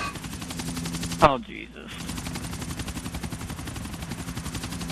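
Gunfire in the video game GTA IV, a steady rapid rattle of shots running almost throughout, briefly cut by a sudden gap, with a man exclaiming over it.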